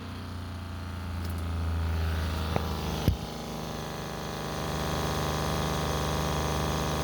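Reverse osmosis water filter system running in a camper van: a steady low mechanical hum with tonal overtones, two sharp clicks as it switches on, and then a continuing drone.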